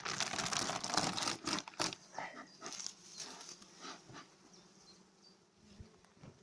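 A honeybee colony buzzing in an opened hive at a spring apiary: a dense, close swarm hum that is loud at first, then settles to a steadier drone with a few handling knocks.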